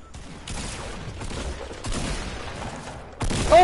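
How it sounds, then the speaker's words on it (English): Fortnite video game gunfire comes as rapid, dense bursts of shots in two or three waves, fairly loud and close, with a louder burst at the very end. "Mo, what are you shooting at? You're shooting at me"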